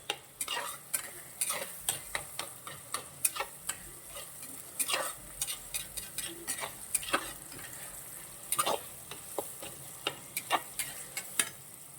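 Ingredients for kuzhambu sautéing in a pan, with a soft oil sizzle under repeated sharp scraping and tapping strokes of a ladle against the pan, irregular in rhythm and close.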